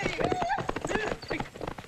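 Cavalry horses gallop in a 1973 East German film scene, a rapid clatter of hooves under loud shouting voices.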